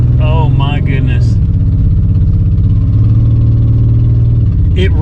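A car engine runs and idles with a steady low drone, loud and close. A voice speaks briefly over it near the start.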